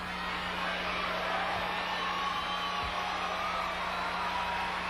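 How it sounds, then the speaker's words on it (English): A large arena crowd at the 1988 US Olympic gymnastics trials, with a steady wash of distant cheering and murmur running through the whole stretch, fairly faint and without distinct peaks. "The crowd is reacting to other activities in the arena."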